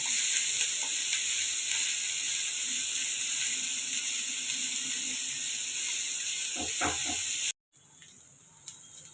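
Chopped onions sizzle and fry steadily in a pan for stuffed bitter gourd, a loud continuous hiss with a few stirring scrapes near the end before the sizzle drops off abruptly.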